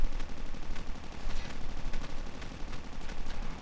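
Dense, rapid automatic gunfire in the Call of Duty Mobile battle royale mode, a continuous close-range rattle of shots that fills the whole stretch with no talking.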